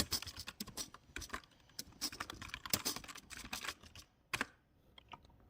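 Quick bursts of key presses on a computer keyboard as a Linux command is typed, irregular rapid clicks with short pauses, quiet and close, no voice.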